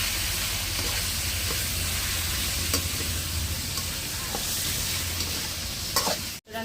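Chicken stirred in a pan with turmeric and ginger paste for gongura chicken pickle, a dense continuous frying hiss with soft scraping strokes, loud and close, ending in a brief clatter.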